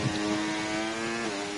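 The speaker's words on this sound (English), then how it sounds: "Okay, Ethan revving in neutral." Race car engine revving in neutral in a racing video game, a steady loud buzzing drone with a faint rise and fall in pitch, heard alone.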